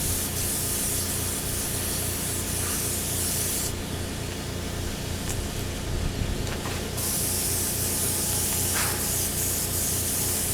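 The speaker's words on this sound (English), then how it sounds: "Now we just want to get 1 coat of clear on." A continuous loud spray of clear coat being applied to motorcycle wheels, a broad steady hiss that dips briefly and resumes, close and alone.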